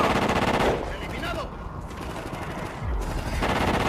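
Rapid gunfire from the video game Call of Duty Ghosts, loud bursts and crackling shots with brief lulls, a dense battle mix filling most of the clip without any talk.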